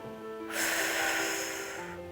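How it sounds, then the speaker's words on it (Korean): During a seated calf and hip-flexor stretching routine, a person draws one slow, audible breath in through the nose, then lets it out, close up and soft against quiet background. "다시 코로 마시고 내쉬고 한 번만 더 해볼게요"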